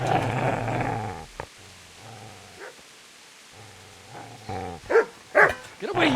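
A dog in the medieval role-playing game Kingdom Come: Deliverance barks and growls in a few short, sharp bursts, the loudest near the end, with quiet gaps between them and no speech.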